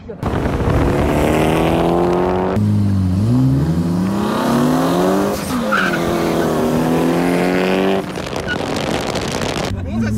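Loud engine revving and shifting with tire screeching mixed in as a drift car slides, continuous for several seconds, close by.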